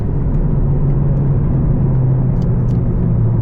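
A 2020 Honda Civic Si driving in third gear up a canyon road on Continental ControlContact tires, its engine giving a steady, loud, close rumbling drone with constant road and tire noise and no talk.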